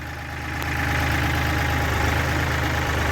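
A Kioti CK3510 compact tractor's diesel engine runs at a steady idle, close and loud, with an even low rumble and faint knocking throughout.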